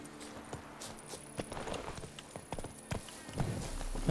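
Horse hooves clip-clopping at a walk in the Witcher 3 video game, the horse Roach stepping in an irregular rhythm of soft, close thuds.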